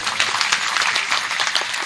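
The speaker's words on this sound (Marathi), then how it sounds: "एकदा टाळी वाजवा त्यांच्याकरता" An audience at a kirtan claps, giving a dense burst of applause close and loud for about two seconds, with no voice over it.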